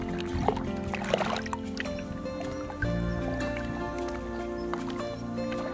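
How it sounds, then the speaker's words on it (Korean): Gentle water laps at the edge of Naejang Lake, a lake along a walking trail in Jeongeup, making soft, continuous sloshing with small drips under a steady tonal background. "일렁이는 물소리가 소리만으로도 가슴속 더위를 몰아냅니다."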